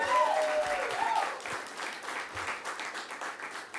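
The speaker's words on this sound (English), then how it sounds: "yes, that's an applause line, sure." Audience applause at a rainbow flag landmarking ceremony, a fairly faint outdoor-sounding patter of clapping with some background chatter, softening slightly as it goes on.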